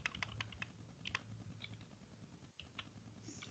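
Someone types a shell command on a computer keyboard, a quiet, close run of irregular key clicks with a short pause near the end.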